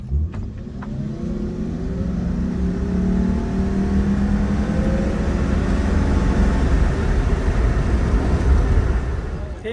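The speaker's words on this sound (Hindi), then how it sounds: "तो अब हम इस गाड़ी का 0 to 100 चेक करते हैं।" A Toyota Crown Majesta 3.5-liter hybrid sedan accelerates hard from 0 to 100, heard as a steady rising engine and motor drone with road rumble building throughout, no talking.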